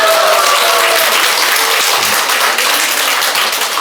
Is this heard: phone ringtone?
no